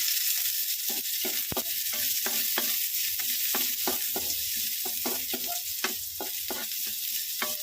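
Ginger and garlic sizzle steadily in oil in a frying pan for squid tinola, a constant hissing fry near and loud, punctuated by regular scraping strokes of a spatula stirring.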